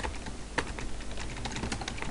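Rapid, close clicking of keys on a computer keyboard as code is typed in Visual Basic .NET, a steady run of fairly quiet keystrokes with no talking.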